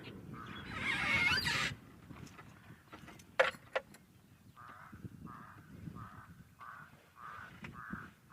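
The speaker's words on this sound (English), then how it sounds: "The pied crows are all up in arms." Pied crows caw in agitation in the bush, first a loud harsh burst, then a steady run of evenly spaced, moderately distant calls with a few sharp clicks between them.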